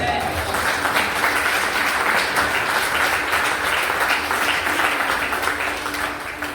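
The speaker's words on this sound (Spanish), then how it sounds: "Dale un aplauso al Señor." Congregation at a Spanish-language church sermon on perseverance applauds steadily and loudly for several seconds, a dense sustained clapping that tapers slightly near the end.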